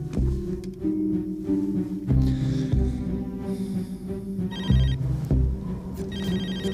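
A mobile phone rings with a loud, repeating electronic melody of steady tones, close by and continuing throughout with no talk over it.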